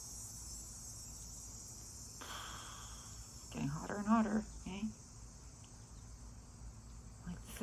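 Cicadas buzz in hot summer weather as a constant high-pitched drone running throughout, steady and moderately loud, while a voice speaks briefly in the middle.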